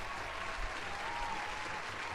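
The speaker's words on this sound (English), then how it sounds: "Round of applause!" A studio audience at a Dungeons & Dragons homebrew challenge show breaks into steady, dense applause that stays loud and even throughout, with no break.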